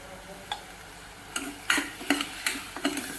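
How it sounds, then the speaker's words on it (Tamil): Spices such as turmeric and chili powder are stirred in hot oil in a pan for a rajma dish. Several sharp scrapes and clinks of a spoon against the pan come in an uneven rhythm over a faint background sizzle. "இதை நல்லா அந்த எண்ணெயிலேயே நல்லா வதக்கிக்கலாம்"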